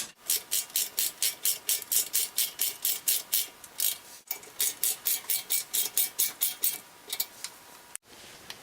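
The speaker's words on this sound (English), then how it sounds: "Using a 7mm Allen head, tighten down the caliper guide pins." Ratchet wrench with a 7mm Allen head tightening the caliper guide pins on a BMW E46/E36 front brake, giving steady rapid clicking bursts in a regular rhythm with two short pauses, close and clear with no talk.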